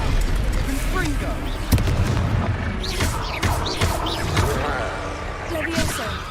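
Confringo fire spells in Hogwarts Legacy burst in a series of loud booming explosions during a boss fight, with a voice shouting the spell name over the blasts.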